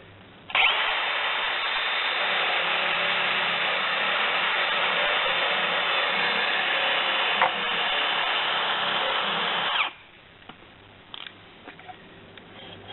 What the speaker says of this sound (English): the speed of this wire wheel spinning around is what cleans any burrs or rough edges off the aluminium track